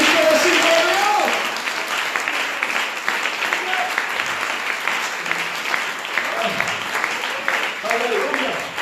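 A church congregation breaks into sustained applause during a sermon, with a dense wash of clapping that starts loud and continues steadily throughout, while a voice speaks over it.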